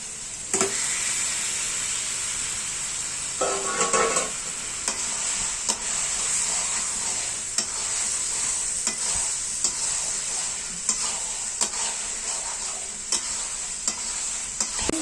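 Country chicken meat tipped into a pan with very little oil and stirred, giving a steady close sizzle with scraping stir strokes and a brief louder burst as the meat goes in.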